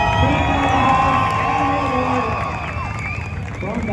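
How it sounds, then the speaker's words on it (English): A crowd at an outdoor car and truck show cheers and shouts loudly for a Fox Body Mustang, a dense, sustained roar of whoops and yells with voices mixed in. "let's make some noise for the Fox Body"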